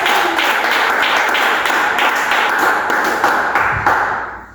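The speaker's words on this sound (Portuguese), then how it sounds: "batam palmas para o Senhor" A church congregation claps together in steady, dense rhythm, loud and continuous throughout, with no talk over it before the clapping fades out at the end.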